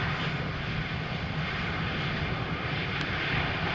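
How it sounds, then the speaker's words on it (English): A Play Airbus A320neo arriving from Reykjavik at Amsterdam Schiphol in showery weather, its engines making a steady broadband roar that holds loud and even throughout with no voices. "Number 2 is in fact the Play A320neo arriving from Reykjavik"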